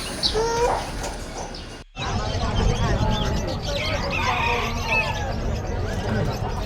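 Chickens, including giant breeds, cluck and crow in a noisy livestock section of a pet market, with voices talking over the steady background din.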